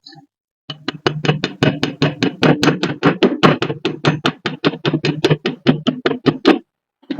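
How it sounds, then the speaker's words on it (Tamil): A hammer taps flux slag off a freshly welded steel pipe joint in a fast run of sharp metallic knocks, about four per second, close and loud, for roughly six seconds before stopping. "மேல இருக்கக்கூடிய பிளக்ஸ் நான் தட்டுறேன் பாருங்க"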